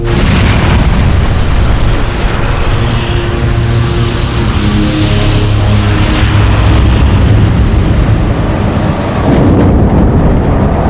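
Rolls-Royce jet engine for the A380 destroyed in a blade-off test, a loud, continuous roaring rumble with heavy low booming, sustained throughout and fading slightly near the end.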